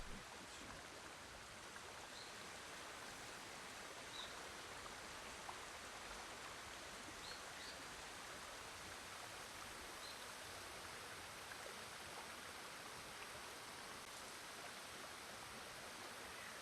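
Steady, rushing stream water from Ghost of Tsushima, a broad continuous wash of flowing noise that stays loud and even throughout, with no voices over it.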